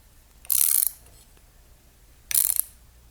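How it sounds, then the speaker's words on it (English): A 7/16 wrench tightening a bolt on a gun wall mount, two short bursts of quick ratcheting clicks about two seconds apart, close and fairly quiet with near silence between. "I'll take my wrench, 7/16, start screwing it in"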